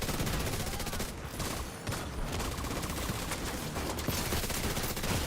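Dense, continuous gunfire and grenade blasts from the video game The Division 2 form a loud, unbroken barrage with bursts stacking on top of one another, and faint voice traces sit underneath.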